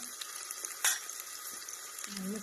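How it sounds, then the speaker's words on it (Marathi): Onion, green chili and garlic fry in hot oil with mustard seeds in a pan, giving a steady close sizzle, one sharp utensil clink partway through and a faint low tone near the end; no one speaks. "आता चला आता मस्त कांदा व्हायला लागलेला फ्राय"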